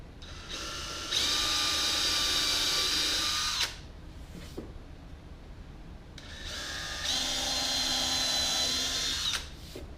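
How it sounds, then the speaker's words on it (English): A power drill boring pilot holes into a wooden cutting board, two sustained high-pitched whirring bursts of about two and a half and three and a half seconds, separated by a short pause with faint handling sounds. "put a pilot hole in each hole. Just make sure you're going straight up and down with the drill bit"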